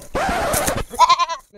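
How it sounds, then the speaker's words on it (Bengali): A goat at a market sale bleats up close: a long, loud wavering cry followed by a shorter quavering bleat that trails off. "একদম তাজা ছাগল আছে।"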